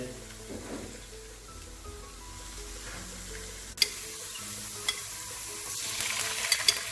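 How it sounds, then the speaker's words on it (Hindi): Spices being stirred into beef nihari in a pot, a soft continuous scraping and sizzling with a few sharper clinks near the end, steady and close with no talk. "शेफ़ मिक्स कर दें हम इसको"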